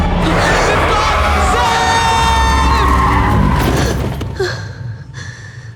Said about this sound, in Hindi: stop the car, we're going to crash